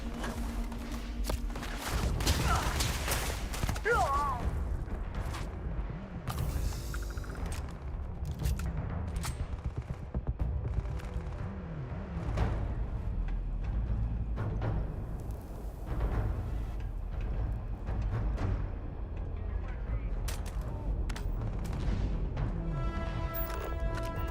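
Game gunfire crackles through a running firefight in Starfield, with bursts of shots and booms under a busy mix of effects, voices calling out across the fight.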